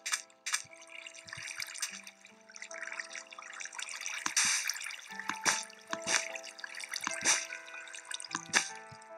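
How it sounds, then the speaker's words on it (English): Water drips and trickles inside a flooded house in the Minecraft video game, with repeated short splashy drips and a steady wet running texture over several seconds. "there's a lot of water upstairs, which is, I flooded in my house on accident"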